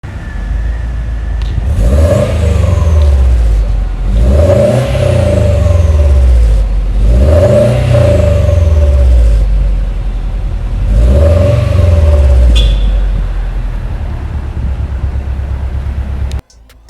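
A 2010 Subaru Forester XT with a Tomei downpipe and a dual STI muffler revs four times close by. Each rise and fall produces a loud, deep exhaust rumble.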